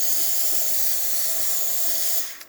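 Steady hiss of steam jetting from the valve of a Saeco Intelia coffee machine after a tune-up, loud and continuous before cutting off abruptly near the end.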